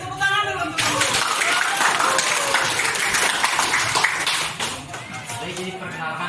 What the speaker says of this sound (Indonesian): Beri tepuk tangan dulu untuk guru.